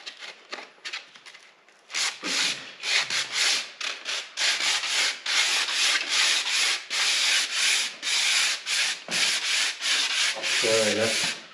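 Sandpaper rubs by hand over a tractor wheel rim being prepped for paint. After a quiet start, loud, rhythmic back-and-forth scraping strokes repeat steadily, broken by short pauses.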